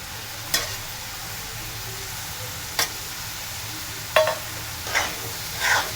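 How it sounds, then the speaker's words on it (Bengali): Meat sizzles softly in a pan under a steady frying hiss, broken by a few sharp clinks and scrapes of a spatula stirring, close by with no talking. "তাই আমি তাড়াতাড়ি করে ভেজে নিচ্ছি"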